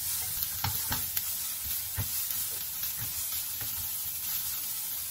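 Food frying in a non-stick pan with a little oil, with kale and eggs cooking for a small breakfast: a steady soft sizzle with occasional scrapes and stirring taps, close and moderately quiet, no talking.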